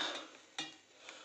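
A knife cutting spinach vadi mixture into square pieces, three faint, separate taps of the blade against the plate or pan in a quiet setting.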